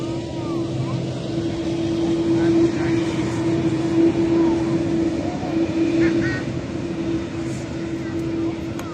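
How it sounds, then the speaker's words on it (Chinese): A heavy widebody airliner, an Emirates Boeing 777, passes close overhead at a curve near a spotting point, giving a loud, steady engine roar with a sustained tonal hum that holds for the whole stretch, amid busy background noise. "连续过了4架重型机。"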